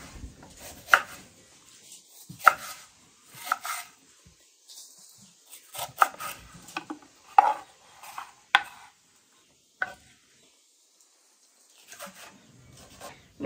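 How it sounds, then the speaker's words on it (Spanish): A knife chops an onion finely on a board in a home kitchen, giving quiet, irregular clusters of sharp taps separated by pauses, with no talking. "Voy a empezar a cortar mi cebolla infinitamente para que se pueda sofreír bien."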